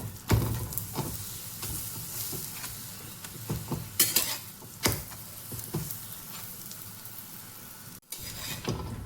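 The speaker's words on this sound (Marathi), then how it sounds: "पराठा टाकूया तव्यामध्ये. तर पराठ्याला तूप लावून घेते." Potato paratha brushed with ghee frying on a tava griddle, a steady close sizzle broken by sharp scraping and turning clicks of a spatula, with no talking.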